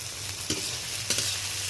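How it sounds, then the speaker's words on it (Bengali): Onions sizzle in a pan with green banana and potato, a steady close fry broken by a few quick stirring scrapes. "উল্টে পাল্টে নেড়ে নিচ্ছি"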